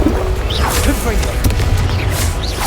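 Confringo explosive spells going off in a Hogwarts Legacy battle, giving dull booms and whooshing blasts over a constant din of combat, with a voice shouting spell names throughout.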